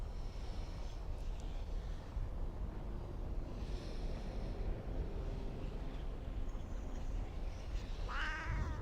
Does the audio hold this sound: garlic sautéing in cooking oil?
no